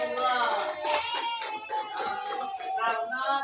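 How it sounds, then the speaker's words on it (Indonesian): A small group of people clapping together in applause for a team of students in a classroom, a brief burst of fairly close hand claps with a steady, even density throughout. "Tepuk tangan kelompok 2."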